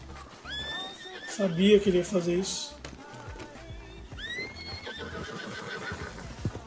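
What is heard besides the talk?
horse neighing in video game Red Dead Redemption 2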